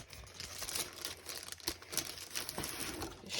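Scrapbooking paper with gold world-map and compass prints crinkles and rustles faintly and close by as it is handled, in irregular soft bursts.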